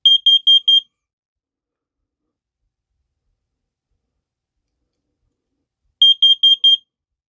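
A First Alert carbon monoxide alarm sounds its self-test: two loud, shrill bursts of four rapid beeps each, separated by about five seconds of silence.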